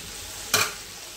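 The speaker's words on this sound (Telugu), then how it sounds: "ఆనియన్ అల్లం పేస్ట్ అన్నీ ఫ్రై అయినాయి" Onion and ginger paste fries in a pan as Rayalaseema fish curry is prepared, giving one short, close burst of sizzling and stirring over a quiet background.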